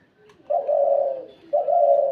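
Two doves give two drawn-out, low, resonant coos, close and clear, separated by a short pause and with no voices.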